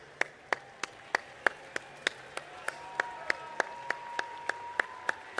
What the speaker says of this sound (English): Let's give a round of applause for our striped shirts